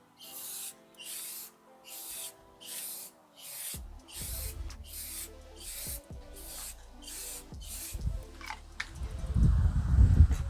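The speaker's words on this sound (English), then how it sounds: "we'll come back and spray it again" An aerosol spray paint can hisses in repeated short bursts, about a dozen evenly spaced sprays onto a car headlight, close and fairly loud, with some handling clatter and rustling toward the end.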